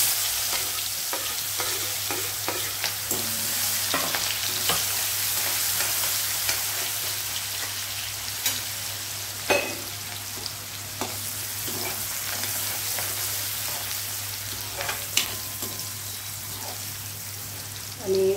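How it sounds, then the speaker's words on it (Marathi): Chopped onion frying in oil in a pan with asafoetida, a steady close sizzle with occasional stirring clicks of a utensil and a constant low hum underneath, no talking. "आणि कांदा छान मस्त गोल्डन फ्राय होऊ द्या तुम्ही"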